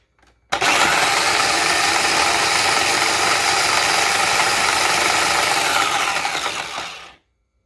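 Baby carrots, washed and drained, chopped in a food processor: a loud, steady motor whir with rattling, grinding chunks, starting abruptly and running about six seconds before cutting off.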